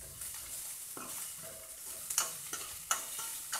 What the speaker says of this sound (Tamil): கருவேப்பிலை போட்டு நல்லா வதக்கிங்க.